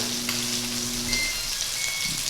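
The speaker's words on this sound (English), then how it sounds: "Now, these scallops look like they're going to lift up naturally, which lets you know that they're seared" Scallops and shrimp searing in a hot pan, a steady, even sizzle close up with no talking.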